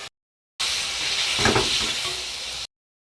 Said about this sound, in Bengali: চিকেন মশলার মধ্যে দিয়ে দেবো, কষিয়ে নেবো।